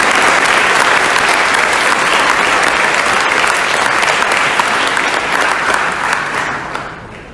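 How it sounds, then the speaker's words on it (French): A large audience at an eloquence event in Tours claps loudly and continuously, a dense full-room roar of hands that holds steady for several seconds before tapering off at the close. "Je pense qu'on peut applaudir tout le monde"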